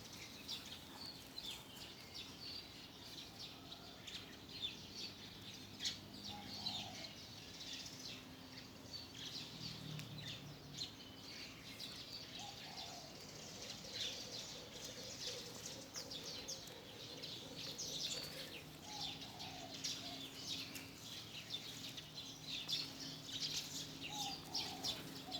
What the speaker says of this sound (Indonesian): Banyak burung di sini. Banyak burung yang kecil-kecil.